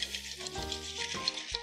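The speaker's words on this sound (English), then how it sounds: "And this is called a rum swizzle because to make it, you need to swizzle it" Crushed ice rattling and churning as a rum swizzle cocktail is swizzled in a glass, a close, fizzy scraping with a few sharper clinks, heard alone without voices.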